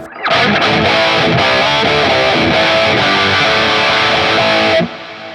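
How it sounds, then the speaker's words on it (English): Loud, sustained electric guitar chords with heavy distortion and a washy reverb tail, played alone through a Line 6 POD Go amp preset, ending abruptly. "I like it a little wet, so I'm going to kick my reverb back in"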